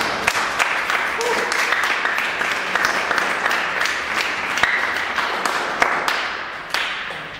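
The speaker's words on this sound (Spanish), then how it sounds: "Dele palmas al Señor." A church congregation claps together in a dense, steady round of applause, with sharper individual claps standing out and voices faintly mixed underneath.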